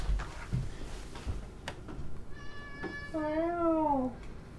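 A cat gives a string of drawn-out meows in a rocky gorge, the last one a loud rising-and-falling wail close by. A person talks to it in between.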